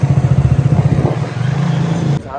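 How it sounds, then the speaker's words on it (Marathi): A Triumph Speed T400 motorcycle is ridden, its engine thumping in a fast, even pulse close up that smooths into a steady drone before cutting off abruptly near the end. "आपण चालवत आहे बाईक"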